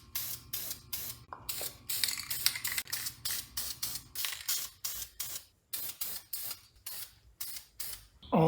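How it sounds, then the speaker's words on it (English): A spray can lays clear coat on brake caliper brackets in a rapid series of short hissing bursts, each under a second, fairly close and quiet, with faint rattles between passes. "I'm going to try to hurry up and spray the first coat of clear"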